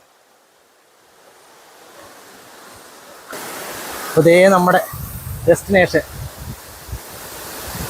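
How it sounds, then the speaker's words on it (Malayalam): Aruvikkachal waterfall in Kottayam, a steady broadband rush of falling water that swells partway through, with a person talking over it. "നമ്മുടെ വെള്ളച്ചാട്ടം"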